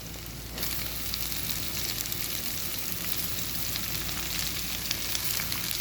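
Cabbage and onions frying in a pan for a Tamil cabbage poriyal, with a steady, close sizzle that starts abruptly and then continues evenly throughout, no talking.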